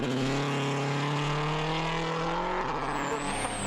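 A Citroen C4 rally car on studded tyres races through a snowy stage at Rally Norway, its engine screaming loud and close with rising and shifting tones and a brief gear change near the end.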